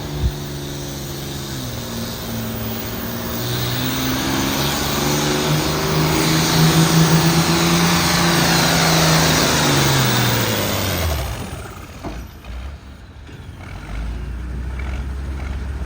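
A 1755 Oliver pulling tractor roars down the track at a truck and tractor pull, its engine note climbing and straining loudly for about ten seconds before cutting off, leaving a quieter rumble behind.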